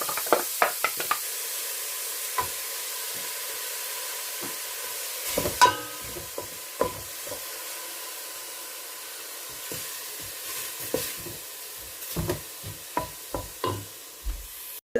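Onions frying in a pan for a Mexican bean stew, a quiet steady sizzle under a series of sharp knocks and scrapes from stirring, the clatter bunching at the start, around the middle and near the end.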